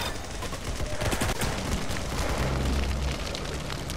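Laser rifle fire in the video game Arsenal: a dense, loud barrage of overlapping shots and booming blasts fills the full four seconds, with a low rumble beneath and no voices.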